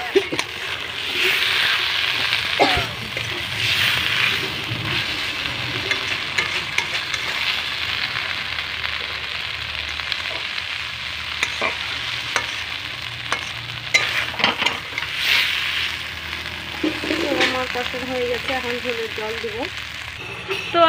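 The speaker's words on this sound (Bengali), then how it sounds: "তোমরা দেখো আমি তরকারিটি কষিয়ে নিচ্ছি" Curry sizzles and hisses steadily in a pan as it is sautéed, with occasional stirring scrapes and clinks and a bubbling stretch near the end.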